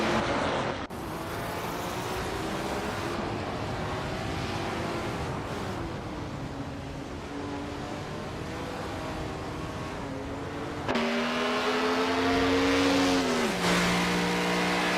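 Race cars speed along in a racing video game, a steady engine drone with rising and falling pitch, swelling louder near the end as another car's engine revs close by.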